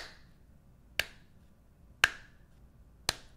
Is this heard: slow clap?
yes